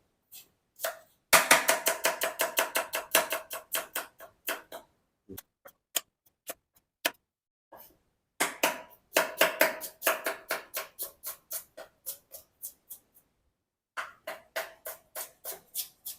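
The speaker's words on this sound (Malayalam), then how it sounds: "നമുക്ക് ഇതൊന്ന് കട്ട് ചെയ്തെടുക്കാം." Rapid knife chopping of curry leaves and green chillies on a board in quick rhythmic bursts, pausing between runs, close and crisp with no talking.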